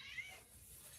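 A house cat meows once, briefly and fairly faint, with a soft hum underneath and a small sound just before it ends.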